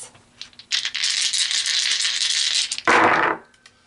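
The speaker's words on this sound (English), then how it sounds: "So let's pull these last few dice." Dice are shaken and rattled together in a hand during a tarot reading, a sustained close clattering for about two seconds, then a sharper tumbling burst as they are poured out, with no talking.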